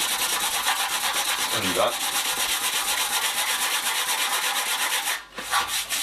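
Hand sanding Yamaha Drag Star motorcycle sheet metal with coarse 80-grit paper, producing fast, rasping back-and-forth strokes up close, continuous with a brief pause near the end and a short spoken word.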